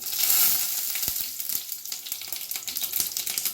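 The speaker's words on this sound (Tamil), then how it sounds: "கடுகு சீரகம் லேசாக பொரிஞ்சோடனே" Mustard seeds and cumin crackle and splutter in hot oil for a Tamil stir-fry of amaranth stem greens, a close, bright sizzle broken by sharp little pops scattered irregularly throughout.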